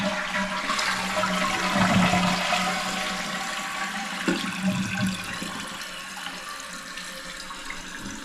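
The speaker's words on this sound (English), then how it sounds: "So we're gonna do one more flush." A running toilet flushes with a steady rush of water, then the tank refills with a continuous hiss and trickle that lingers close by, with no talking.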